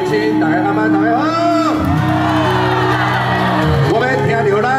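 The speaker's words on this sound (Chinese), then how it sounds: "我们听到咱嘉义乡亲的丹田，掌声加尖叫 声" A large concert crowd at an outdoor evening show in Chiayi roars continuously, with shrill screams, whoops and shouts rising over the sustained cheering.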